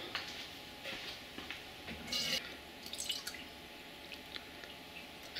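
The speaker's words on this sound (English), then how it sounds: "You can add a little bit of water." Faint, sparse drips of water falling into a can at irregular intervals, quiet and close in an otherwise hushed room.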